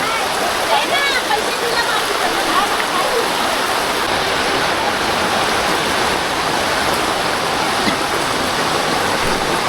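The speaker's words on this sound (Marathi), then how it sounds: "पाऊस बघा मित्रांनो केवढा वाढला आहे आता." Heavy rain pours down along a path to the Mahalakshmi temple at Khanivade, Virar, with water rushing and flowing; a dense, steady, loud roar fills the whole stretch without letup.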